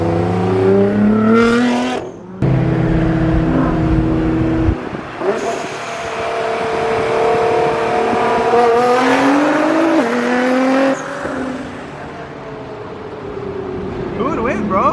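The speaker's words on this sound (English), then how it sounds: "The blow-up valve sounds crazy, dude." A loud Nissan GT-R engine revs hard and drops off repeatedly, its blow-off valve hissing between pulls, with tire noise in the mix and voices talking over it.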